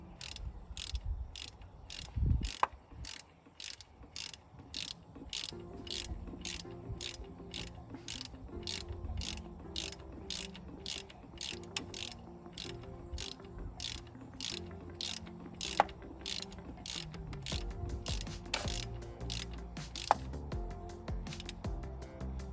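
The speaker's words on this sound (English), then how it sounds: "Get it in a position to tighten, and let's tighten her down." A wrench ratchets as a temperature sensor is tightened on a 2016 Chevy Silverado, giving a long run of rapid, evenly spaced close clicks with a low background hum and no talking.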